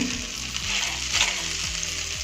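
Corn kernels frying with peri peri masala in a pan, a steady close sizzle with soft scraping stirs breaking through every half second or so, no voices.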